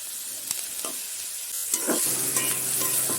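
Cluster beans sauté in a pan with a soft sizzle and frying crackle, broken by clicks and scrapes of stirring, close and fairly quiet, without speech.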